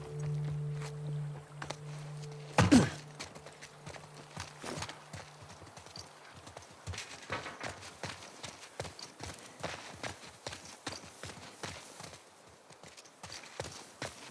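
Horse hooves clip-clop steadily in The Last of Us Part 2, a quick run of close, regular steps that continue throughout, with a brief louder knock near the start.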